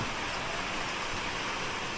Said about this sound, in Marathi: पाऊसची सुरुवात झाली बघा